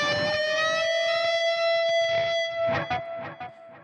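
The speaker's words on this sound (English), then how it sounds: "So I'm going to play this bend." An electric guitar string is bent through a Quad Cortex pitch shift effect, producing a sustained, bright note with a wavering bend, played alone and ringing clearly before decaying in choppy bursts.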